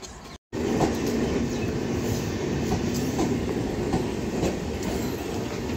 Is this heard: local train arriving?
yes